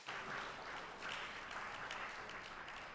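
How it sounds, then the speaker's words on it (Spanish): A church congregation applauding, steady broadband clapping throughout with a slight swell near the middle, fairly faint and distant. "Denle un aplauso a Jesús ahí."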